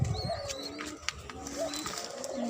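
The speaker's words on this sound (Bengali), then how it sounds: "এদিকে আমার কবুতর খাবার খাচ্ছে" Pigeons on a rooftop garden coo softly while feeding, a low steady murmur of calls with a few faint chirps and light pecking taps in the background; no talking.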